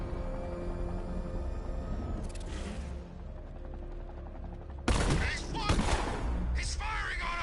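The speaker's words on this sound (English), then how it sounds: "He's firing on us!" Gunfire from Batman: Arkham Knight: steady shooting beneath a sustained musical score, then a louder cluster of sharp bursts and impacts in the second half.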